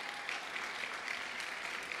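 Steady applause from an audience at a Latino heritage awards celebration in San Francisco, faint and distant, with a dense even texture and no distinct voices.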